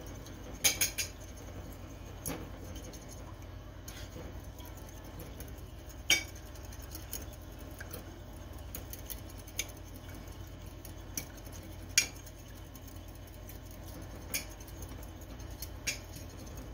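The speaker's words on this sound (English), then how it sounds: "Take an egg and whisk that." An egg is whisked in a bowl, heard as a steady faint scraping with light scattered clinks of the whisk against the bowl, fairly quiet throughout.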